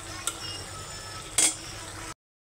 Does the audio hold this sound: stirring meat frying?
yes